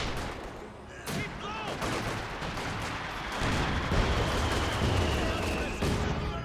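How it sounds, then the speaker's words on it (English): Mortar fire and battle noise in the video game Company of Heroes: dense thuds, blasts and gunfire in a continuous loud barrage, with a voice talking over it. "Good hit there from the mortar."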